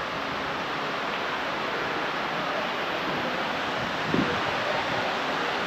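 Loud, steady rush of running water fills an underwater aquarium tunnel in Mysore, a continuous broadband wash with a brief faint knock near the end.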